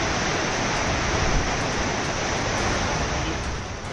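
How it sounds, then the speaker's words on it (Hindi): Floodwater after heavy rain rushing through the streets of Tirumala town, a loud, dense, unbroken roar of torrential flow that holds steady throughout. "शहर में पानी ऐसे बह रहा है मानो कि सैलाब आ गया।"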